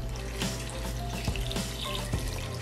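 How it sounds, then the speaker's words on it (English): Tap water runs into a cooking pot for yellow split pea soup with pigtails, a steady splashing stream that lasts throughout, close and moderately loud, with no talking. "I'm gonna add some water."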